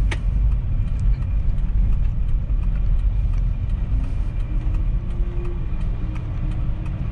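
A Nissan Serena turning into a narrow alley, its engine a steady low rumble at low speed heard from inside the car, with no talk over it.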